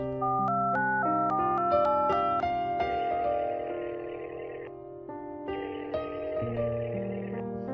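A melodic electronic phone ringtone plays on and on through several looping phrases with no answer, loud and alone without talk.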